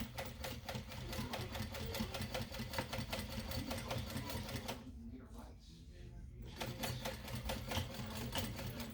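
A domestic sewing machine stitches darts in fabric with rapid, even needle clatter that runs steadily, pauses for about two seconds, then resumes at the same fast rhythm, close and clear.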